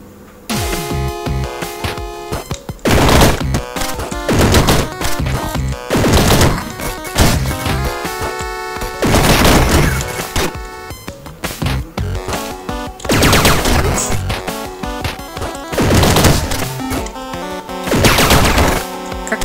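Rapid laser gun blasts from a video game fire in dense bursts throughout, loud and nearly continuous with short pauses between volleys, no talking.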